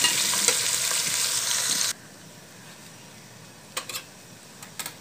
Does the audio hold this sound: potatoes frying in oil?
yes